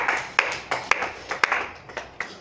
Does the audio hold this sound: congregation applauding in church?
yes